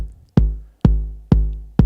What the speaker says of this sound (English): So decay on the 909 sounds like this.